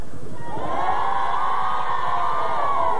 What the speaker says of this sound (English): Going to stand up and cheer and wave?